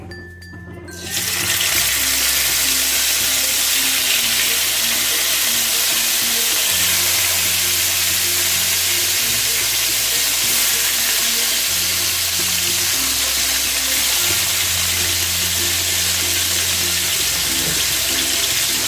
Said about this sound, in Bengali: দিয়ে আমি মাছগুলোকে কড়াইতে দিয়ে দেবো